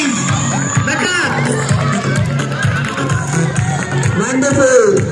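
A crowd cheers and shouts at a school sports day during a 50 meter race for fifth standard boys, with continuous loud, close babble, children's shouts and whoops.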